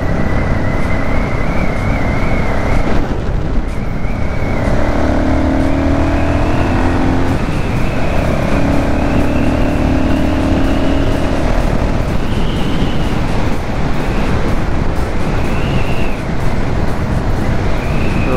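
An Audi S4 drives past through a tunnel, a loud sustained engine drone with rising and falling whining tones as it approaches and pulls by, echoing without speech.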